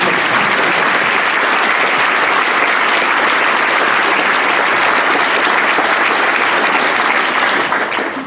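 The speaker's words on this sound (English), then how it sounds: "I think we need to give our children a huge round of applause." Loud, dense applause from an audience at a Year 6 school graduation assembly, honoring the graduating children, continuing steadily at full strength and tapering slightly at the very end.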